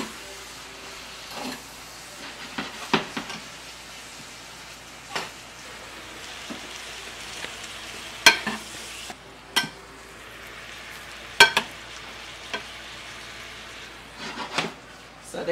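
Onions and carrots pickling in vinegar cook in a pan with a faint, steady sizzle, broken by intermittent clinks and scrapes of stirring and utensils, close by with no talk.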